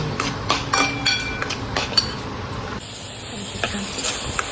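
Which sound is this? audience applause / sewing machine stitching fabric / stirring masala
stirring masala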